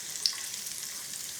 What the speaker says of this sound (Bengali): এই পর্যায়ে আমি দিয়ে দেবো কিশমিশ। কিশমিশগুলো ভেজে নেব